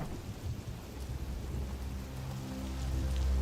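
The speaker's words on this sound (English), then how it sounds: "Now it's raining really hard." Heavy rain pours down steadily with a low rumble of thunder building toward the end, a dense continuous wash of noise.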